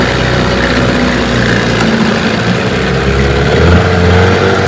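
A 1992 Evinrude 15 HP outboard motor runs steadily on a bayou, its loud, continuous mid-pitched engine drone holding close and constant with a slight swell in pitch near the end, and no talking.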